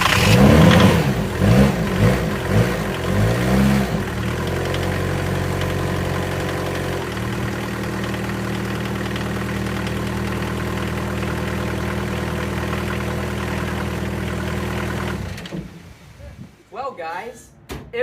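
A VW truck fitted with a swapped 1.6 turbo diesel engine idles steadily with a low, even rumble, after some clattering revs at the start; the engine cuts off near the end.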